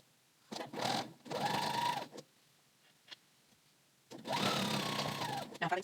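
Sewing machine stitching the inside seam of a Seamwork Joss pant, running in two long bursts with a short stop and a few brief taps between, close and fairly loud.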